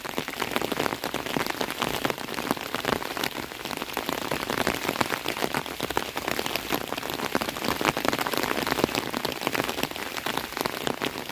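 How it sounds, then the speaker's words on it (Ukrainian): Steady rain pouring down outdoors by a riverbank in freezing weather, with dense drops pattering continuously on surfaces at a constant, fairly loud level throughout, no voices. "А милуєшся просто дощем. І краплями."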